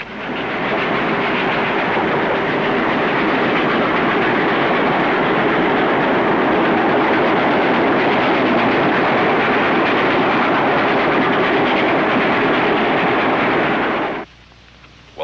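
A train rumbles steadily along the tracks, a loud, continuous roar with rhythmic clatter that cuts off abruptly near the end.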